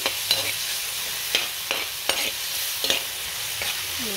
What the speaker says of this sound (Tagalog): nagisa na po tayo ng bawang sibuyas at saka ng kamatis